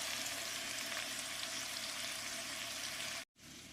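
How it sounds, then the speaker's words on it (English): Mixed vegetables sautéing in olive oil in a pan over lowered heat, giving a steady, loud, close sizzle and crackle that runs continuously before cutting out briefly near the end. "but just listen to that sizzle"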